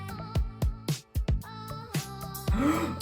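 A voice imitates the agonal gasping of a collapsed person who needs CPR: a series of short, abrupt, strained gasps in an uneven rhythm, close and fairly loud.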